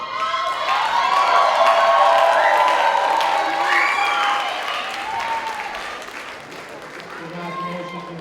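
A graduation ceremony crowd at a 2019 high school diploma event breaks into loud applause, whoops and cheers that peak early, then slowly fade as individual shouts and voices linger.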